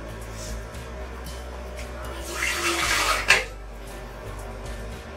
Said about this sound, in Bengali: এবার আমি একটা স্ট্রেনারের মধ্যে এটা ঢেলে দিচ্ছি। এর মধ্যে একটু ঠান্ডা জল দিয়ে দেব।